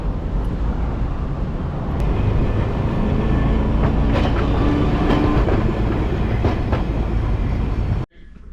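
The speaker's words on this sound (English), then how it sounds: "In Hiroshima, did a streetcar to get to this point." A Hiroshima streetcar rolls along its rails with a loud, steady rumble and faint clicking from the track, continuing without a break for about eight seconds before it cuts off abruptly. No one speaks.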